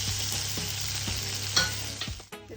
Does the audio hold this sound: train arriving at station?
no